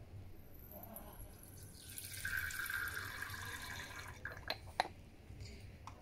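Potassium iodide solution trickles into a small 50 ml glass beaker in a lab, a soft, faint pour with light splashing and a couple of drips at the end over quiet room noise.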